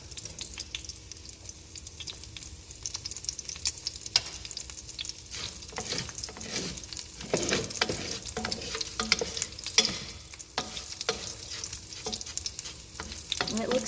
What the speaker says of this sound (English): this chicken, we're going to let it brown on all 4 sides